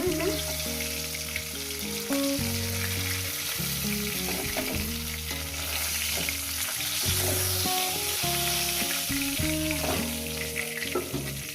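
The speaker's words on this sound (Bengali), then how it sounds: "এই তেলের মধ্যে আমি বেগুনগুলো একটু নাড়াচাড়া করে নেব" Eggplant pieces fry in hot oil while being stirred in a pan, a continuous bright sizzle with occasional scraping and stirring clatter, close and steady throughout.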